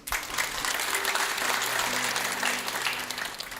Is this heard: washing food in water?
no